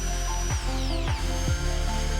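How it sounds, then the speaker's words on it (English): A power drill fitted with a 4 mm bit bores into aluminum. Its motor gives a steady close whine, and the pitch drops three times as the bit bites under load. "Drill the mark using drill bit 4 mm."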